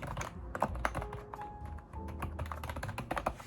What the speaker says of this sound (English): Let's try and type on it. I wonder if it makes those ASMR noises.